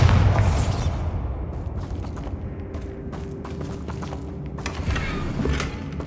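A Bombarda spell explosion in the Hogwarts Legacy video game: a loud heavy boom at the start, then rumbling and clattering, creaking debris that fades over several seconds.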